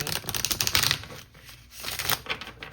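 Tarot cards are shuffled by hand in rapid riffling bursts, close and crisp, with a brief pause midway before the shuffling resumes.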